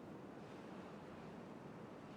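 Steady broadband rush of flowing water in the Timberborn colony-building game, a continuous even wash with no talk over it.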